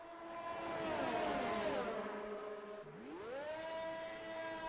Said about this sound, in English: Yeah, I can hear revving as well.